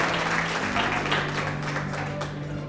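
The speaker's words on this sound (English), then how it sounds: "Let's give Vanessa a nice round of applause again." Audience applause for an honoree at a construction industry event, a steady wash of many hands clapping close by, with speech faintly mixed in.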